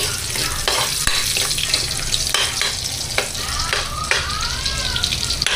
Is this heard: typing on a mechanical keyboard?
no